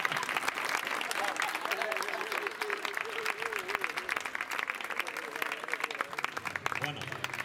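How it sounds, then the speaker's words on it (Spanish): A crowd gives a loud round of applause for a couple at a band concert, dense continuous clapping throughout with a voice speaking over it. "Así que un fuerte aplauso para la pareja."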